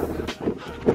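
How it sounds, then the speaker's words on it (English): Strong wind buffets a mountain campsite on Mt Arthur, New Zealand, a loud, gusty low roar that surges and dips across the whole second, with no other sounds clearly heard. "It's just crazy windy."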